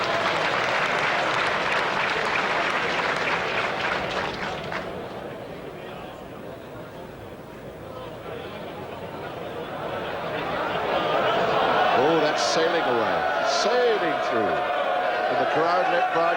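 Spectators at a lawn bowls match break into applause, a steady wash of clapping that eases off, then swells again with crowd chatter and a commentator talking over it.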